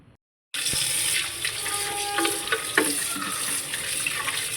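Tap water runs steadily into a sink while chicken is washed, a close continuous splashing stream with small knocks and clatters, no talking.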